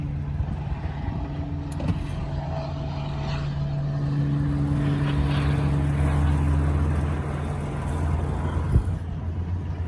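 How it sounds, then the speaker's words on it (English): Toyota Tacoma crawler truck fitted with a Marlin Crawler Inchworm box, easing up a ledge with the clutch let out: a low, steady engine drone that swells slightly mid-clip, close and without talk. "the truck just walked right up it like it wasn't even there"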